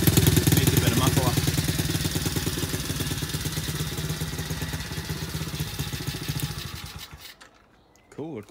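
A pit bike engine runs loud and steady with little muffling, a fast harsh idle-like chatter that holds for about seven seconds before cutting off.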